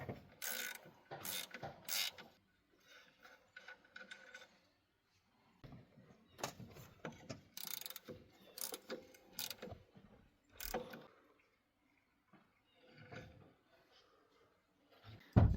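A ratchet clicks in quick bursts while two 15mm alternator bolts are loosened on a Chevy Silverado, with sharp metallic clacks and short pauses between strokes.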